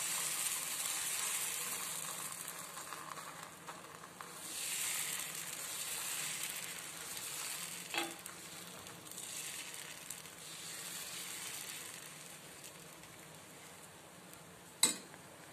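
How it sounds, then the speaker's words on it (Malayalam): Elanji crepe batter poured and swirled around a hot pan, giving a steady soft sizzle with faint scraping and a sharp metallic clink near the end. "ഇതാ 1 തവി എടുത്തിട്ട് നമുക്കിതിൽ ഒഴിച്ചു കൊടുക്കുകയാണ്. എന്നിട്ട് ഇതങ്ങനെ ചുറ്റിച്ചു കൊടുക്കുക."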